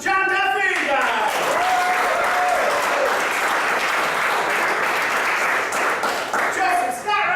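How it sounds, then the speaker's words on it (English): Sustained loud audience applause at a graduation ceremony, a dense wash of clapping with cheering voices, starting after speech and fading as talk resumes near the end. "give a round of applause for Mr. John Duffy, guys."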